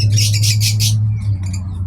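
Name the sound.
birds squawking in garden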